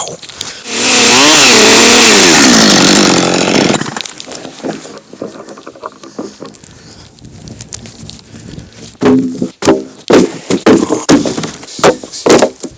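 Chainsaw cutting 18-foot fir poles outdoors: a loud, close, revving snarl for about three seconds, followed by scattered thuds, knocks and rustling as the wood is handled.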